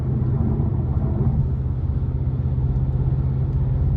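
A 2023 Mercedes-Benz C43 AMG coupe with a 3.0-litre twin-turbo engine pulls hard under acceleration, a steady, loud, deep cabin rumble that holds without break and has no voices over it.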